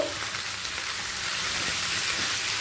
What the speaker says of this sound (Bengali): টমেটো পেঁয়াজ আর ক্যাপসিকামটা হাই ফ্লেমে ভেজে নেব